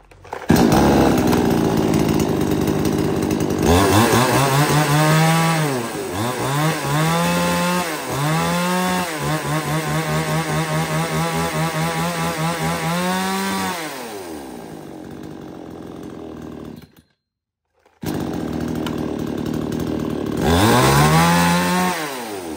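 A Japanese-market chainsaw engine roars close by, revving up and down repeatedly, cuts out briefly, then fires up and revs again.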